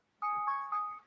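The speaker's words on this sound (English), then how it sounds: "I have a phone going off and I don't know where it is." A phone alarm or ringtone going off somewhere nearby, a short bright electronic melody starting abruptly and ringing out in clear pulsing tones, with no talking.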